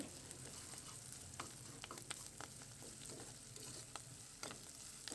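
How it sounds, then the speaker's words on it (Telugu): Ginger garlic paste, green chillies and curry leaves sautéing in hot oil, a steady close sizzle broken by repeated scraping strokes of a spoon in the pan, continuous and without speech. "అల్లం వెల్లుల్లి పేస్ట్ పచ్చివాసన పోయే వరకు బాగా మగ్గించుకోవాలి"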